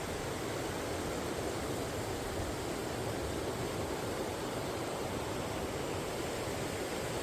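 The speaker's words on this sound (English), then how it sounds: "All you can hear is the water from the streams and the waterfalls." Steady, even rushing of water from streams and waterfalls in a Norwegian fjord near Hellesylt, a constant broadband wash holding level throughout with no voices.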